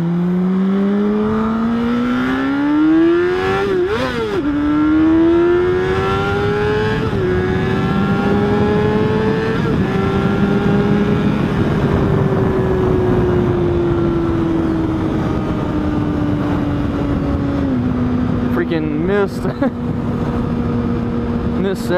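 A motorcycle cruises down a highway, its engine droning loudly and steadily with gradual pitch rises and falls as it shifts and revs, heavy wind rush throughout, picked up by a microphone inside the rider's helmet.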